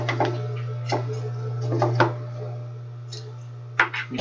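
A Juki LU-562 industrial sewing machine stitching through half-inch MDF, sounding as a low steady motor hum under a few sharp punching knocks spread across several seconds, close and fairly loud.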